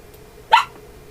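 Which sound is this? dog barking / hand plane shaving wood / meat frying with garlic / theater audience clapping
dog barking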